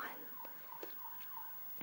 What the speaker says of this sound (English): why do sirens insist on going off when I'm making videos?